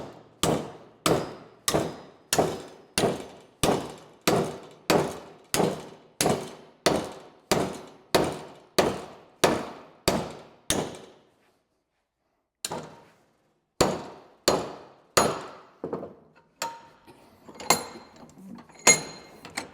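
Steel bar stock being hammered over into a handle for a 55-gallon steel drum: a steady run of loud ringing clangs about two per second, a pause, then a few more scattered, lighter strikes.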